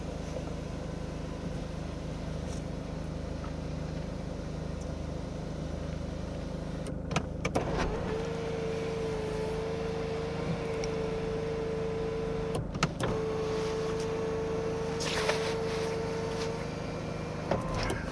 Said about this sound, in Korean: 자 이어서 선루프 작동되는 거 확인시켜 드릴게요